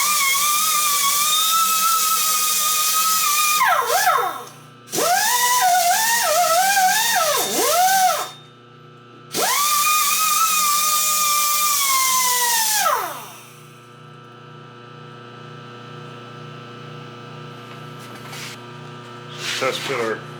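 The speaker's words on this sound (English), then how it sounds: "I got the power switched over to the lathe right now." A metal lathe re-turns the end of a hydraulic cylinder in a welding shop, its tool squealing in gliding, pitch-shifting bursts that come and go, then drops to a quieter motor hum with a few light taps near the end.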